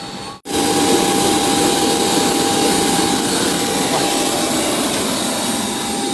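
A small Joy Air passenger plane's engine gives a steady, loud roar that holds evenly after a brief dropout at the start, with no talk over it.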